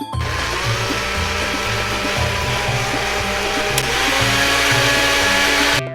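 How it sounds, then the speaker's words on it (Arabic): A blender whirs loudly and steadily as it blends chopped carrots for carrot juice, a continuous motor drone that holds close and even from start to finish. "الخلاط ونخلطه كويس"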